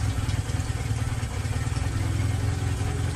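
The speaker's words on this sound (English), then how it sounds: "You can now hear the engine slowly starting to wind itself down." An engine ticks over steadily at idle after its auto choke, a continuous low mechanical drone with a faint clatter, close and even throughout, with no one speaking.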